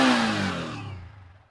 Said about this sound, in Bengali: ইঞ্জিনের সাউন্ড শুনে নাও